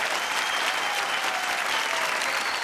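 Studio audience on a Bhojpuri singing reality show gives loud, sustained applause, dense clapping from a crowd throughout with no break.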